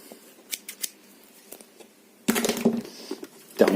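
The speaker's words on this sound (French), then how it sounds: "une paire de ciseaux" Several sharp metallic clicks and snips from scissors being handled from an RC toolbox, followed by a rustling burst of handling noise up close.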